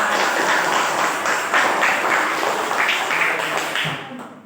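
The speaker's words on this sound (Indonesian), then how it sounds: "Tepuk tangan" Schoolchildren in a classroom clap together after a group cheer, a busy, even patter of many hands held for a few seconds before it tapers off.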